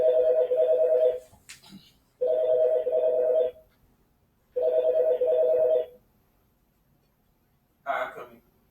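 A phone rings in three loud, even bursts of about a second each, separated by pauses, followed by a short clattering sound as it is handled.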